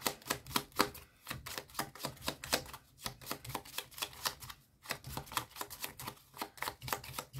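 Tarot deck shuffled by hand, a close, quiet run of rapid papery riffling and flicking bursts in uneven rhythmic clusters, with brief pauses between them.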